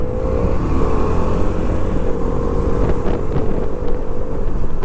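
Heavy city traffic in Hyderabad, heard while riding a KTM 390 Adventure motorcycle: a loud steady engine drone with wind buffeting the microphone and brief sharper bursts of surrounding vehicle noise.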